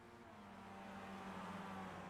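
Race cars in the iRacing video game, heard as a faint, steady engine drone that holds at one level for the whole stretch, with no talking.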